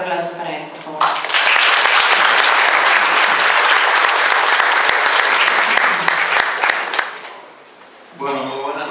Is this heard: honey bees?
no